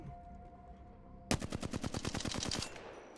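Flatline assault rifle in the video game Apex Legends fires a full magazine in one rapid, evenly spaced burst of about fifteen sharp shots, loud and close, starting abruptly after a quiet hum.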